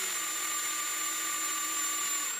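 A power drill bores holes through tough plastic in a cheap air freshener being fitted with lights, giving a steady, close motor whine that holds without a break and with no voices.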